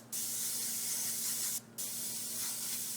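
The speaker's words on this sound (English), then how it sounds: "We're going to use the same spray adhesive can and come in and add our second color." A steady spray hisses from a spray adhesive can, briefly cutting out once before resuming, close and continuous.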